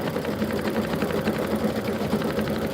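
A quilting machine stitches a custom quilting design, with a steady, rapid, evenly pulsing needle rhythm running close and continuous from start to finish, with no talking.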